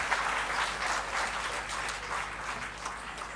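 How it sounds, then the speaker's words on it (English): Steady clapping from an audience at an inclusion summit talk, moderately loud and even throughout, with no talking over it. "Then clap, clap."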